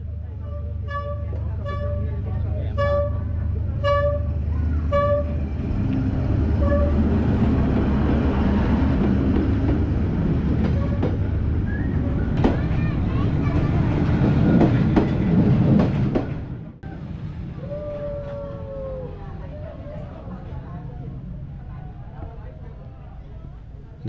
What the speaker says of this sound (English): watching a train pass through this narrow street